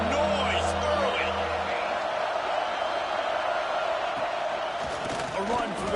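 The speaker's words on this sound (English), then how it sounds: "This crowd bringing the energy and noise early." A football stadium crowd at a USC game roars in a dense, sustained wash of cheering, with a commentator talking over it throughout.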